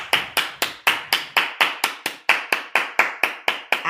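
A single person claps alone in a slow, even rhythm, about sixteen sharp, loud, close claps spaced roughly a quarter second apart with no voices.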